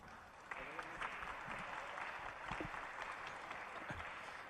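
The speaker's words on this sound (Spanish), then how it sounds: "Por favor, recibámosle con un fuerte aplauso." Audience applause welcoming a speaker at a lecture event, sustained clapping from a crowd at moderate distance, with a few low murmured voices mixed underneath.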